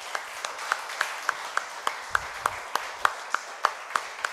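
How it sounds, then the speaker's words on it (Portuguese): A church congregation claps in unison during a worship service, a loud, regular rhythm of sharp claps at roughly three per second over a bed of softer scattered applause. "Você pode aplaudir ao Senhor, queridos?"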